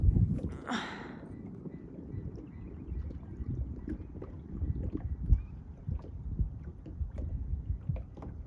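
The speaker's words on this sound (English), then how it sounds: "We're on a boat. From the Murchison River." A small boat moves along the Murchison River in Kalbarri with low motor rumble, occasional knocks and splashes, and wind buffeting the microphone, briefly gusting near the start.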